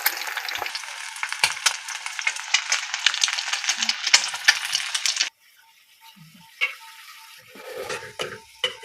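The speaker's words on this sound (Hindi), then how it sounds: "इस तरह से हमारे अंडे हो रहे हैं फ्राई" Eggs frying in a pan, a bright, dense crackling sizzle for about five seconds that suddenly drops away, leaving only faint scattered clicks and pops.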